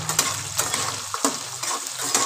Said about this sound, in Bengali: এবার লাল লাল করে ফুলকপিটা ভেজে নিই।